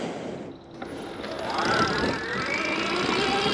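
High-pitched electric motor whine from a Stark EX electric enduro motorcycle, a steady tonal hum rising in pitch midway through and holding, close and fairly loud, with no talking over it.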